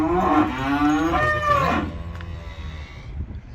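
A loud, drawn-out moo from a calf on a farm in Belgium, rising and wavering over about two seconds, then fading into quieter outdoor background.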